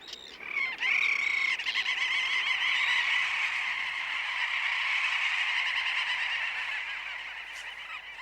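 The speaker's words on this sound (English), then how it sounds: "It's comforting to hear the familiar chatter of Arctic terns this far north." A dense, continuous chorus of shrill Arctic tern chatter fills the air in the high Arctic, many calls overlapping without pause, steady and fairly loud throughout.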